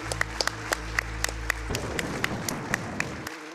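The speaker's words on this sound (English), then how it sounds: "I want to clap after the Ramby jumps" An audience at the AGDQ 2018 Donkey Kong Country 2 speedrun event claps as sparse, separate claps and taps that are fairly faint, over a steady low hum.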